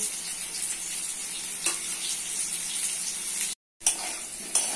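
Potatoes fry in hot oil with turmeric and salt, giving a steady close sizzle with a few stirring scrapes and a brief gap near the end; no one talks.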